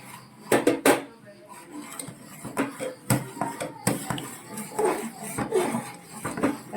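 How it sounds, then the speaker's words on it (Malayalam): Custard being stirred in a pot for a fruit salad, a ladle knocking and scraping against metal in uneven bursts, close and fairly quiet, with some soft background noise. "നമ്മുടെ കസ്റ്റാർഡ് ഒഴിച്ച് നമുക്ക് നന്നായിട്ട് ഇളക്കാം"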